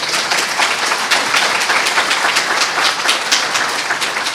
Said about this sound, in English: So maybe just a round of applause for Sophie.